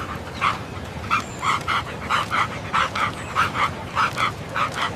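Several dogs bark and yip in quick, repeated bursts over about five seconds, fairly close and steady, with some whimpering between barks.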